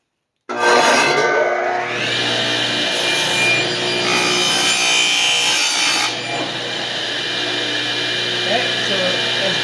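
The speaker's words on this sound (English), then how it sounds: "and then we're going to cut our splines" A saw cuts spline slots into a wooden box, starting abruptly after a moment of silence and then grinding and rasping steadily, loud and close throughout.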